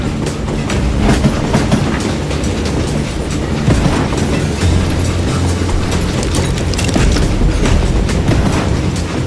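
A train rumbles loudly along the rails in the Wild West shooter Call of Juarez Gunslinger, with a steady, close clickety-clack and heavy rolling noise throughout.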